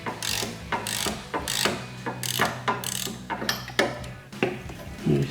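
Ratchet clicking rapidly in repeated bursts while loosening bolts on a Jeep Wrangler TJ side step bracket, each swing a loud close run of pawl clicks separated by brief pauses.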